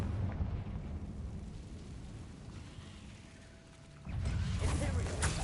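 A Confringo blasting curse goes off in the Hogwarts Legacy video game, a sudden loud burst that breaks out of a low, rumbling ambient bed near the end and keeps roaring.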